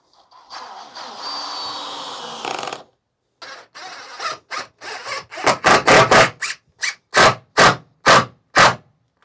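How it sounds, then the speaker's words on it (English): A drill countersinks a hole in a van floor panel: a steady whir first, then a run of short, sharp grinding bursts that grow louder and more rhythmic toward the end. "I guess I got to countersink it for this"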